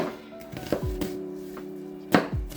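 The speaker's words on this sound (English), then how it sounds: "For our onion as well, just get that sliced up." A knife cuts through half an onion on a board in a few sharp, close chops, spaced irregularly, with a low steady hum underneath.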